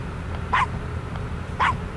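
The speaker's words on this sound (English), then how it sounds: "Alright, yapping dog." A small dog yaps in the video game Gabriel Knight, two short high barks about a second apart over a low background hum.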